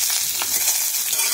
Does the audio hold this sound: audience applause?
no